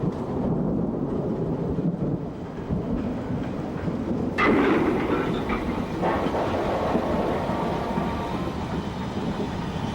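A Black 5 steam locomotive named RAF Biggin Hill runs on the Met line, a heavy continuous rumble with a rising surge of chuffing and clatter midway, fairly close and without talk.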